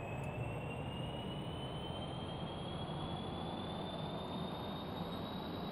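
Rocket engine thrust during a launch in Kerbal Space Program: a continuous, loud, broadband roar with a rising whine over it, steady for the whole stretch.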